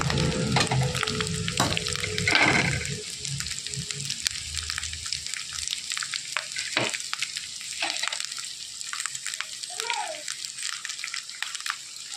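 Chili paste hitting hot oil in a frying pan while cooking chickpeas, a loud burst of sizzling that settles into a softer, steady crackle with occasional stirring scrapes.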